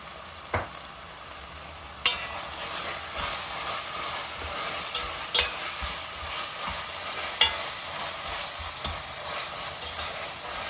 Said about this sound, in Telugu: ఇంత ఉప్పు వేసుకున్నాను మొత్తం అంతటి కలిపి